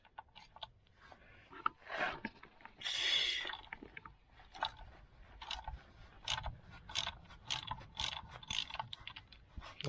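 A hand ratchet works on a Leyland DAF 11-ton tilt and slide truck while its gearbox fluid is being changed. Quiet, close, irregular bursts of clicking come in short runs, separated by brief pauses.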